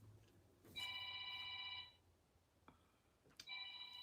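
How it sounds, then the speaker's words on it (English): A telephone rings in a quiet room: two bursts of bright, trilling electronic bell tone, the first about a second long, then a pause and a second burst starting, close and clear with no talking. "Bob's phone is now ringing."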